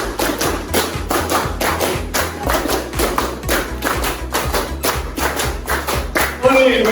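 A classroom of students clap their hands together in a steady counted rhythm, repeated sharp claps over music-like tonal background, loud and close throughout.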